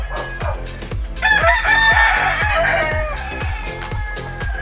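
A rooster crows loudly nearby in one long drawn-out call, over a steady run of rhythmic thumping and background clucking, in a backyard farm of gamefowl.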